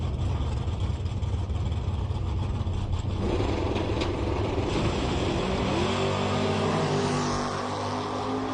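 A drag racing car from Lou's Hot Rod Shop launches and accelerates hard, a loud engine roar that swells midway and climbs in pitch as it pulls away down the strip.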